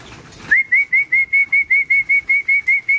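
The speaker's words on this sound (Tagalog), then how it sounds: "Tinatawag-tawag ko sila ng atang sipol." Repeated short human whistles, a dozen evenly spaced bright notes at a steady rhythm, call pigeons to a feeding at a loft, loud and close with no talking.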